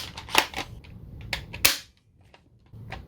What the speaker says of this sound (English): I drilled out the back of the drum so that it can rear load and fire half darts